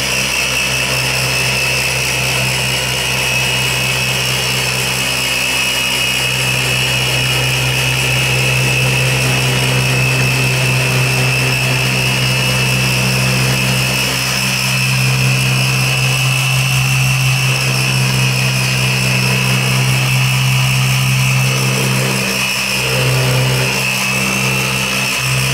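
A rotary polisher spins its foam or microfiber pad, giving a loud, steady motor whine and drone that runs unbroken for the whole stretch, close by, with no talking.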